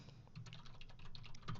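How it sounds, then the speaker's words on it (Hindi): Keystrokes on a computer keyboard as someone types a web address into a login page, a quick, steady run of close, light clicks with no voice. "मैं टाइप करता हूँ"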